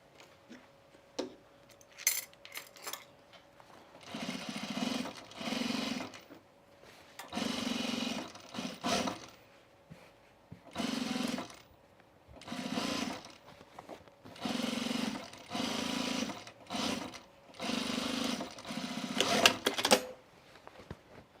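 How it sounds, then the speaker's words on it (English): A sewing machine runs in repeated bursts of a few seconds each, its rapid mechanical whirring stopping and restarting as it stitches a second line of cream bobbin stitches on overalls. "I'm putting a second line of cream bobbin stitches on the other side."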